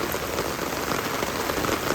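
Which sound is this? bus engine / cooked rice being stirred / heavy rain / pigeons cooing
heavy rain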